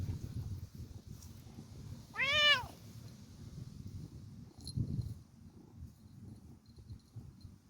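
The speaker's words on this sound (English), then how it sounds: "There's the kitty just meowing in the background." A single drawn-out meow from a nearby cat rises and falls over a faint low background hum, followed by quiet shuffling noises.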